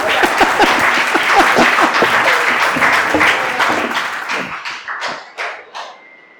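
Loud audience applause at a Hindi comic poetry event, dense clapping from a close crowd that thins out and fades to a few scattered claps.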